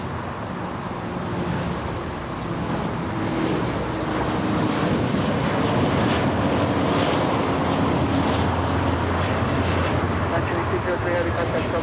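LATAM Boeing 787 taking off at LAX, a broad continuous engine roar with wind noise, steady and building slightly, while someone talks over it.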